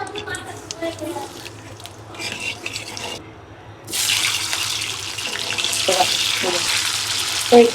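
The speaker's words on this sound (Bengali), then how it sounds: "আমি তেল দিয়ে দিচ্ছি কড়াইতে একটু ডিম ফ্রাই করার জন্য" Oil heats in a wok for frying duck eggs, giving a steady, close sizzle that swells and holds after a quieter start, with a few clinks of utensils and a voice talking over the early part.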